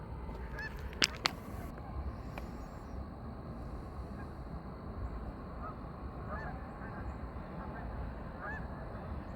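Geese honk repeatedly at a lake where people fish and enjoy the water, their calls moderately distant over a steady outdoor ambience, with a couple of sharper, closer honks early on.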